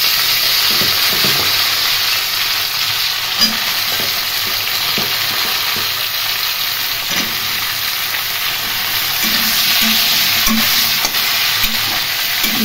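Ridge gourd and potato slices fry in hot oil with green chilli and nigella seeds, a steady loud sizzle running throughout with occasional soft stirring scrapes and knocks.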